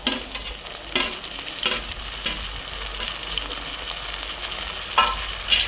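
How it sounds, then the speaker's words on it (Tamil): Tomatoes frying with onions in a pan for a country chicken curry, a moderate steady sizzle with occasional spatula stirs and scrapes close by, no one speaking. "இப்போ தக்காளி, அடுத்தது தக்காளி போடுறோம்."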